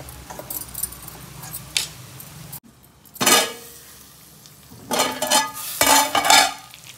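Chicken pieces frying and being stirred in a pan, with intermittent bursts of sizzling and clattering utensil scrapes separated by quieter gaps, close and fairly loud, no talking.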